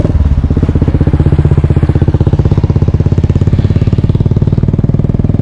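Motorcycle ridden over a gravel road toward Kallanai Dam, its engine thumping in a steady, loud, rapid pulse close to the microphone throughout, with no voices.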